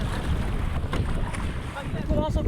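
Strong wind buffeting the microphone during a canoe crossing of the Bay of Somme, gusty rumble over lapping water and paddle splashes, with faint voices briefly in the background.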